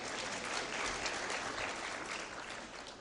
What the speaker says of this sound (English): So clap for me and you clap for boy child.